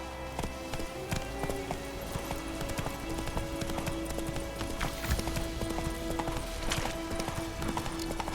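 Roach, Geralt's horse in The Witcher 3 on Xbox Series X, clip-clops along in steady, close hoofbeats that continue throughout over a faint sustained musical tone.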